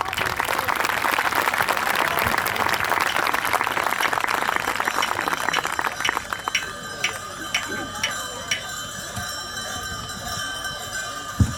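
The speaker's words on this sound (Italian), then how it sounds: "Applauso." At a Sardinian folk event in Isili, a crowd applauds loudly for several seconds, then the clapping thins out and rhythmic metallic clanks of the traditional masked performers' bells ring out clearly.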